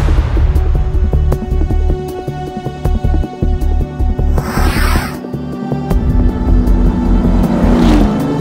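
A car drives along with a loud, steady engine drone that rises and falls as it shifts and accelerates, with a whooshing pass partway through and a rising whine near the end.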